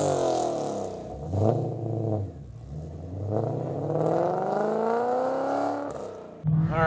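An 850+ hp 2015 Ford Mustang GT engine revving up and down several times, each rise climbing in pitch before dropping back, close and loud with a sharp restart at the end.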